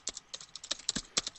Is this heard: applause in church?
no